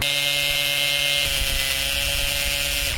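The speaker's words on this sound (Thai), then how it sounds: "ก็เจาะผ่านกระเบื้อง เจาะผ่านหินอ่อน" A cordless hammer drill bores through marble tile, giving a steady loud whine that holds throughout, with a shift in pitch partway as the bit works through the stone.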